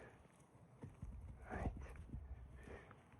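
A large mare walks on hard ground, her hooves clip-clopping in a loose, uneven rhythm at moderate distance, with faint background noise and no speech.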